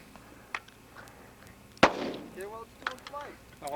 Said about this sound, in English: I'm just trying to shoot a little tin can with my 45